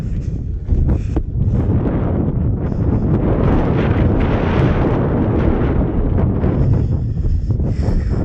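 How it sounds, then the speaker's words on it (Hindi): Strong, cold wind at a high border crossing on the Silk Road in China roars and buffets the microphone, loud and unbroken throughout, with no talking. "हवा इतनी तेज़ चल रही है ना, बहुत तेज़।"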